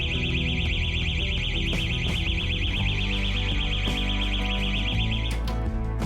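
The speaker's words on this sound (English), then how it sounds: "an alarm will sound when opening the cabinet" An alarm on an AED defibrillator wall cabinet sounds when the cabinet is opened: a loud, continuous warbling electronic tone running steadily for most of the clip over a music bed, cutting off near the end.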